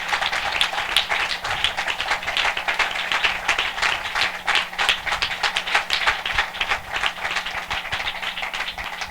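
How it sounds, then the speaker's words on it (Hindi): A crowd gives loud, sustained applause at a Christian spiritual gathering, dense clapping filling the room steadily throughout with no voices over it. "हम जोरदार ताली से उनका स्वागत करें।"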